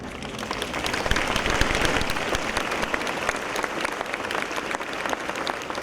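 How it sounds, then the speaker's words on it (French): A crowd claps steadily and warmly in tribute to the late mayor Emmanuel Lamy at his funeral gathering, a dense, even round of applause heard at moderate distance. "Une salve d'applaudissements salue la mémoire d'Emmanuel Lamy"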